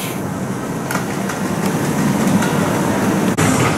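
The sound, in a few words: wooden roller coaster train running on track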